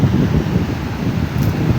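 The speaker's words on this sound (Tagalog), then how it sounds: "walang ulan lakas ng hangin malalaking alon talaga" Strong typhoon wind roars without rain on the coast of Bohol during Typhoon Uwan, a loud, steady, blustery rush buffeting the microphone throughout, with no voices.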